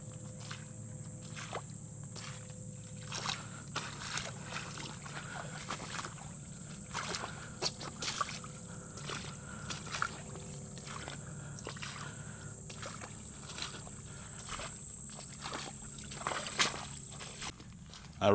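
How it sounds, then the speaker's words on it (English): Boots tromping through water along the Low Water Trail at Richloam, soft sloshing and squishing steps in an uneven rhythm, close but fairly quiet against faint outdoor background. "Gonna have to do some tromping through the water"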